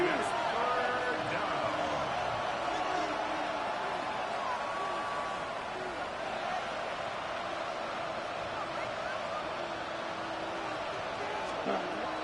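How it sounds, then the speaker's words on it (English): Stadium crowd at a Packers at Seahawks football game keeps up a continuous, dense roar through the whole stretch, steady and loud, with scattered voices mixed into the din. "This crowd turning up the decibel level."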